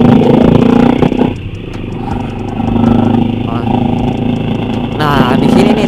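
A motorcycle rides over a rough, damaged road, its engine droning steadily with rattles and clatter from bumps, up close and loud, while a rider talks over the noise.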